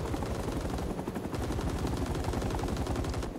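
Sustained automatic gunfire from helicopter door gunners in the Vietnam War shooter Rising Storm 2: Vietnam, a loud continuous rattle of rapid bursts with rotor noise underneath and no talking.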